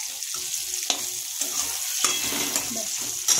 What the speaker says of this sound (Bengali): পটল ভাজা হচ্ছে দেখুন